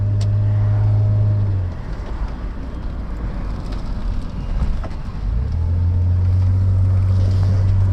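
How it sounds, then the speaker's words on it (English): The twin-carburettor V8 of a Rover SD1 runs as a steady low drone heard from inside the car while driving, with road noise and a brief dip in pitch midway. "The sheer wastage of a twin carb V8 engine."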